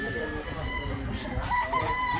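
A rooster crows at a farm expo among fighting chickens, its long, wavering call sounding close over a busy background murmur of people and other fowl.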